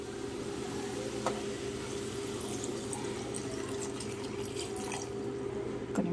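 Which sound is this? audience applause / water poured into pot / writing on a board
water poured into pot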